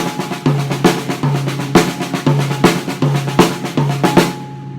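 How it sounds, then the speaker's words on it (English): A steady drum groove in 19/8 with regular right-hand accents on a 10-inch tom landing on a repeating pattern, loud and close, no voices. "I decide to put all of the right hand accents on the tom."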